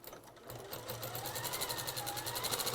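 A sewing machine runs steadily as it stitches through a thicker section of two layers of canvas, giving a close, rapid, rhythmic mechanical whir with even needle pulses throughout.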